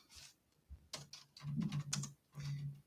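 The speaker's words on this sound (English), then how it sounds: "And I can't even see what I'm typing." Typing on a computer keyboard, a quick run of close, crisp key clicks in uneven bursts with short pauses between them, and no talk over it.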